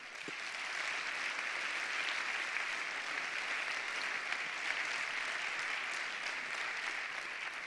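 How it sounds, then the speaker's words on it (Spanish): A large audience applauds young cyclists at a Caja Rural Seguros RGA team presentation, a steady, dense wash of clapping that holds at an even level throughout with no voices over it. "Un aplauso enorme, gracias."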